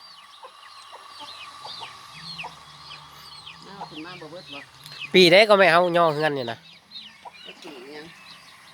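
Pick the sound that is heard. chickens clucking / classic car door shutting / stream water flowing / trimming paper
chickens clucking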